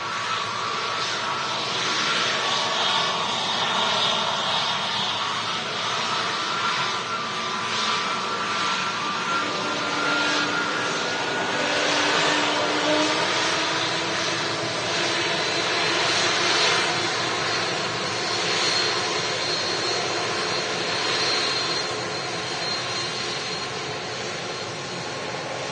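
A Turkish Airlines airliner taxis past nearby, its jet engines giving a loud, continuous roar and whine that swells slightly and holds steady throughout.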